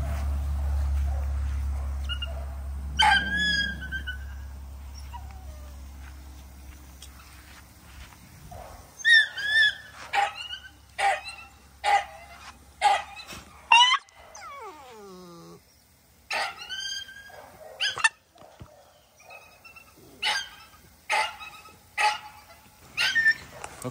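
A large cane corso dog barks and yips in short repeated bursts at close range, with whimpering between barks and occasional brief speech.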